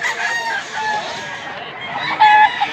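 Chickens at a Mantalungon, Cebu poultry market cluck and call in a dense, continuous backdrop, with a few sharper calls standing out near the end.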